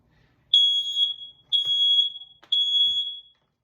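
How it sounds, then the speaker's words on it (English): A First Alert smoke detector shrieks during a test, three loud, piercing beeps about a second each with short gaps between, close by and with no talk over them. "Now we wait until the alarm goes off."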